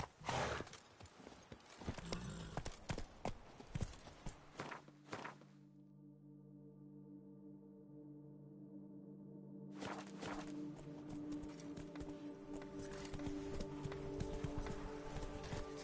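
The horse Roach's hooves clip-clopping along in The Witcher 3: Blood and Wine, a steady rhythmic walking gait under game ambience and music, dropping away briefly before resuming.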